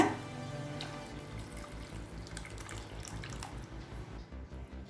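Tamarind water pours steadily into a pot, a continuous splashing trickle that runs throughout and eases slightly toward the end.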